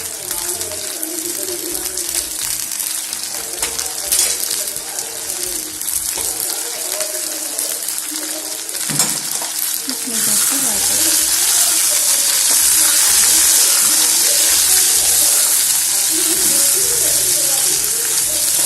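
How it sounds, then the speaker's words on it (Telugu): Half a kilogram of ivy gourd pieces frying in oil in a pan, a broad steady sizzle that swells louder partway through and holds, with a few clinks and faint background talk. "ఇది కొంచెం ఫ్రై చేస్తాము"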